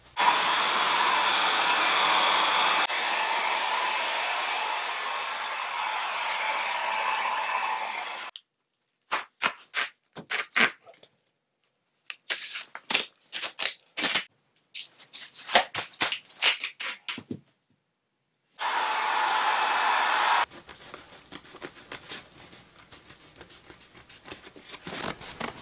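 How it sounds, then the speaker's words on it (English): Long strips of gorilla tape are pulled and stretched along the bottom perimeter of a cut tarp for a DIY hot tent, loud ripping bursts alternating with dense crackling tape pulls and brief pauses, close up and with no voices. "go around the whole perimeter of the bottom of the tent with this gorilla tape"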